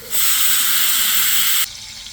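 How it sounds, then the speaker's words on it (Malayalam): A loud, steady hissing pour of about 200 ml of sunflower oil into a large copper cooking pot runs for about one and a half seconds, then cuts off abruptly, leaving quiet background. "ചെമ്പ് എടുപ്പത്ത് വെക്കുക എന്നിട്ട് അതിലേക്ക് ഒരു ഇരുന്നൂറ് സൺഫ്ലവർ ഓയിൽ ഒഴിക്കുക"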